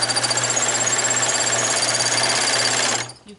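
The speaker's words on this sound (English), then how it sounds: "Generally, you don't want to serge more than a couple layers of fabric" A serger sewing machine runs fast and steady through a single layer of fabric for about three seconds, then winds down and stops.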